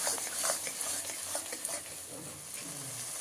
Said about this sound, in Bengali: আমরা একটু মশলাটাকে ভালো করে কষিয়ে নিচ্ছি